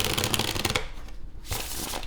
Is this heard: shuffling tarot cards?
yes